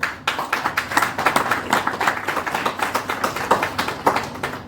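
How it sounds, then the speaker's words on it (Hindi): An audience at a business training seminar claps hard and fast, sharp individual claps rattling in a dense, steady stream throughout, close and loud with no speech over them. "चलिए एक बार तालियां हो जाए जबरदस्त।"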